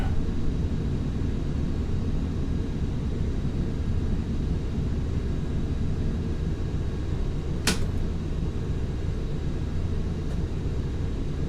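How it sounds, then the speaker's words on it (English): Airliner climbing out after takeoff in Flight Simulator X, a steady loud broadband engine roar that stays even throughout, with one sharp brief click partway through and no voices. "And we are airborne, positive rate,"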